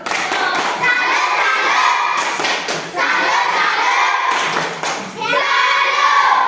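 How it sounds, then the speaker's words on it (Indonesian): A classroom of students performs a rhythmic salute clap in several loud bursts of clapping and thumping, mixed with shouting and cheering voices. "Oke, tepuk tangan dulu untuk kelompok 1. Kita tepuk salut."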